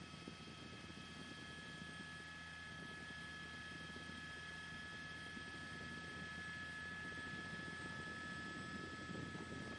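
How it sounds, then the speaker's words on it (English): A police helicopter circles overhead during a high-speed pursuit in Los Angeles, its steady rotor drone and whine faint and continuous throughout, with no talking. "They have the helicopter overhead."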